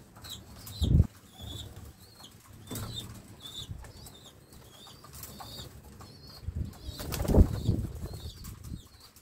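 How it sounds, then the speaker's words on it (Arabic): Homing pigeons leave their loft with bursts of wing flapping, loud close flutters near the start and again near the end, with soft cooing and bird calls in between. "الحمام خاصو يخرج من السبوتيكه"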